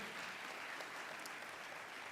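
Steady applause from an audience at a Kenyan diplomatic anniversary celebration, greeting the Kenya National Rugby Sevens team, a dense even wash of clapping lasting about two seconds with no pause.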